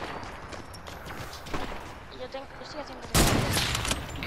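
A few sharp gunshot bursts ring out in a game, including a loud blast near the end, with voices chattering underneath.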